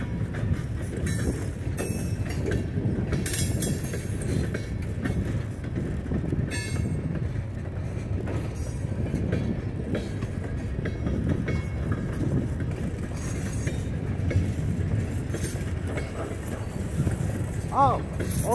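A Norfolk Southern freight train with auto racks rumbles past steadily with rhythmic clacking of wheels on rails, while people talk intermittently nearby.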